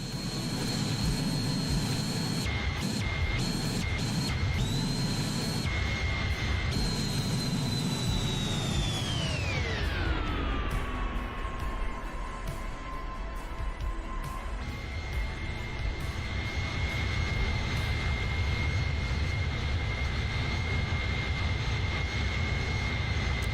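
Simulated Airbus A310 jet engines in Microsoft Flight Simulator roar continuously with a high whine that sweeps smoothly downward and settles lower, loud and steady with brief dropouts early on.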